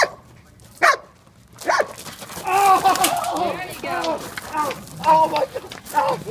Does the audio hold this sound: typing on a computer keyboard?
no